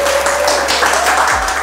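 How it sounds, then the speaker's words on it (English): Wedding guests break into steady, dense applause right after the ceremony's kiss, a continuous wash of clapping that holds at an even level from start to finish, with a faint thin tone running underneath. "you may applaud."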